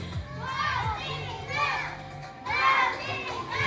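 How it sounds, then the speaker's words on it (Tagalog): A group of kids at an event shout and cheer for Team B, with overlapping high voices rising in bursts, loud and close. "Parinig daw, kids, si Lala Chan ng cheer niyo"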